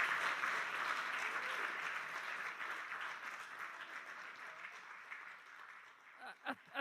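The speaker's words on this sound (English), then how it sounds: "Round of applause for all of our speakers" An audience applauds its speakers at the close of an evening event, a steady wash of clapping that holds for several seconds and gradually thins out toward the end.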